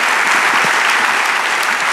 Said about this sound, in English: Let's give a round of applause for those kids one more time.